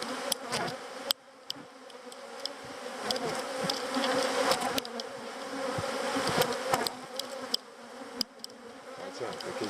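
Honeybees pouring out of a disturbed hive make a dense, continuous buzzing swarm close by, with individual bees zipping past loudly over the steady drone and no talking.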